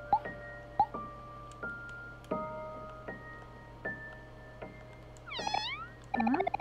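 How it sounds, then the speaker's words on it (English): A kitten in the Omori video game gives a few short, faint meows near the end, after a run of quiet chiming tones and soft game effects. "That's a kitten."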